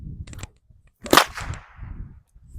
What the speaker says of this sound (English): that's the cattleman's crack